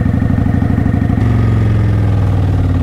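A motorcycle engine runs close by during a practice ride, chugging in a loud, steady rhythm that shifts to a smoother, slightly higher drone as a little throttle is added.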